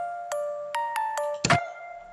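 Bell-like melodic tones ring out in a Latin trap beat, several struck notes in a loose rising run with sustained ringing tails and a brighter hit near the end, clear and upfront.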